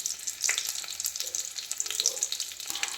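Whole garam masala spices, including coriander seeds, cinnamon, cloves, cardamom and bay leaf, fry in hot oil with a soft, crackling sizzle and scattered small pops throughout.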